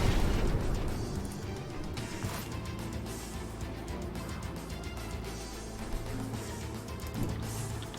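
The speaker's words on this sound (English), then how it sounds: "Can you just explode?" An explosion in the video game Age of Wonders Planetfall: a loud boom at the start that rolls into a sustained rumbling, crackling wash of debris and battle noise which slowly settles.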